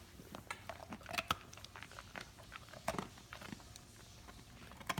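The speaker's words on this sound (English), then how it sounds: "Oh, happy crunching, Katie." A Great Dane crunches a dog cookie, giving irregular faint crunches and sharp bites with soft mouth clicks spread across the clip, close but quiet, with no talk.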